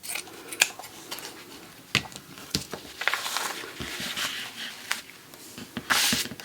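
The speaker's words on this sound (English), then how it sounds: "I'm gonna cut the two layers at the same time here" Scissors cutting through two layers of shirt fabric: a series of close, crisp snips and soft rustling, spaced irregularly, fairly quiet, with no talking.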